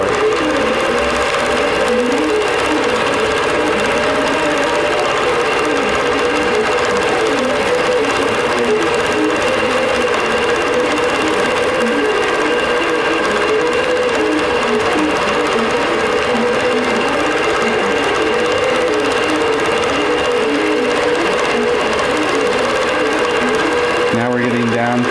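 Sewing machine stitching a quilted winter table runner, running with a steady fast mechanical whir and needle patter throughout, with someone talking over it, ending with a brief clunk.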